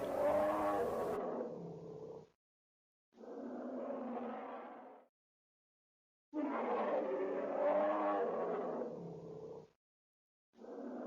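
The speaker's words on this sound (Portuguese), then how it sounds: "Urso." Bear growls in four rough, throaty bursts with silent gaps between them, loud and close, each rumbling for a second or two before stopping abruptly.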